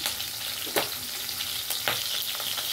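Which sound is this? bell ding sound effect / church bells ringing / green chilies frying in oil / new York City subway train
green chilies frying in oil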